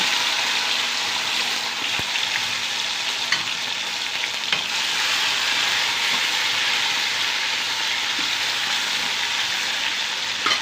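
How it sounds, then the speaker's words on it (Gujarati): A tomato tempering with mustard seeds, cumin and fenugreek powder sizzles steadily in a pan, with a dense, even hiss nearby and a few faint stirring clicks, without talk. "સરસ મજાનો ટમેટાનો વઘાર થઈ રહ્યો"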